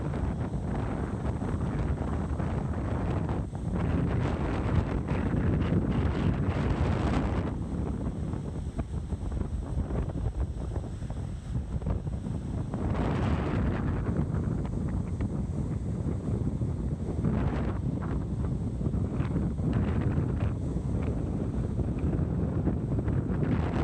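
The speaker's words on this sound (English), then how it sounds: "I took a wide stance so I wouldn't blow away, and I just felt that wind." Strong wind buffets the microphone on a Lake Erie shoreline at Presque Isle, a continuous loud roar with rising gusts that swell and ease, no voices heard.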